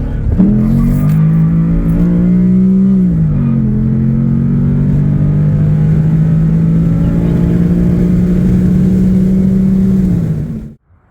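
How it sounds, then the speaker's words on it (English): A tuned Ford Coyote V8 in a work truck with an intake runner fault fix roars at full throttle, a loud, sustained, close engine note that climbs, shifts, and holds high for about ten seconds before abruptly cutting off. "Slam on the gas and just spam the plus."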